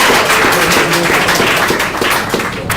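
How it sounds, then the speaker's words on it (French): Burst of applause for a correct answer at a school quiz competition, dense clapping from a group throughout, close and fairly loud, with a few sharper individual claps near the end. "C'est la bonne réponse, on applaudit."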